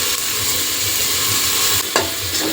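Spices and turmeric sizzle and fry in a pan with stirred lentils, a steady close crackling hiss with a scrape of stirring near the end.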